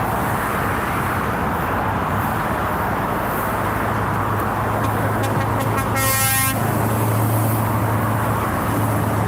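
Car and truck horns honk from oncoming traffic over a steady roar of passing road noise, with a strong, clearly pitched blast near the end and a long, low horn drone carrying through the later half.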